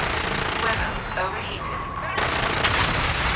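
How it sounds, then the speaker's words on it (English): Rapid gunfire from enemies circling and strafing in Call of Duty: Infinite Warfare, dense bursts of shots with a sharper loud burst near the end, mixed with game sounds. "They are literally circling me and strafing me."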